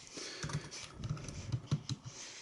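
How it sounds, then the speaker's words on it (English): Soft, steady typing on a computer keyboard, a quick irregular string of close keystrokes with a faint background hum. "So if I type in stave drum calculator"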